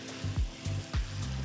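Roasted cauliflower pieces sizzle over a medium flame in masala in a pan, with a soft steady frying hiss and a few rhythmic stirring scrapes close by.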